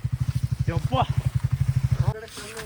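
A motorcycle that got stuck in a water crossing thumps at a steady low idle, with its rapid even pulses sounding loud and close as it is pulled out. People talk over it before the engine cuts off.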